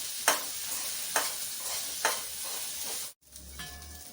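Okra frying in a pan gives a steady soft sizzle, with three evenly spaced scraping stirs and a brief break near the end. There is no talk.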